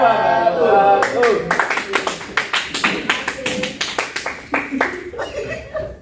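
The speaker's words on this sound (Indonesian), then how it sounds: "Oh dia tepuk pramuka aja." Students clap a quick scout-style rhythmic pattern in a classroom, a run of sharp, evenly spaced claps carrying on for several seconds, with voices and a little laughter mixed in at the start.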